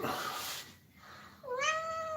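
Indoors, a cat gives one clear, drawn-out meow near the end, close by, after a stretch of quiet background noise.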